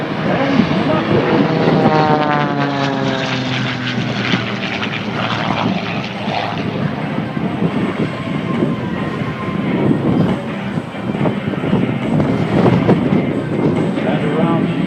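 A propeller aerobatic plane flies an octagonal loop at the Avalon Air Show 2013, its engine a loud, continuous drone whose pitch rises and falls as it passes overhead.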